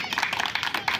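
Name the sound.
audience clapping at a school reunion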